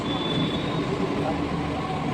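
A metro train moving through a station or tunnel, a steady loud rumble with a faint high whine across the whole short stretch, crowd noise underneath.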